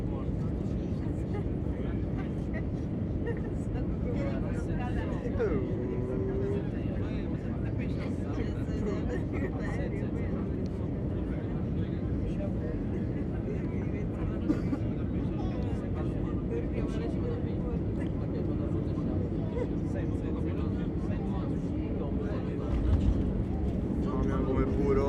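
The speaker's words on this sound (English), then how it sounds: "let you enjoy this night arrival into Rome Fiumicino Airport" TAP Portugal Airbus A319 landing at night at Rome Fiumicino, a steady, loud cabin roar of engines and airflow that holds throughout, with a slight bump near the end and faint voices now and then.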